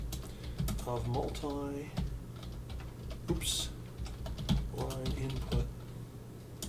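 Fast clicking keystrokes on a computer keyboard while a person speaks over them, with a low steady hum in the background.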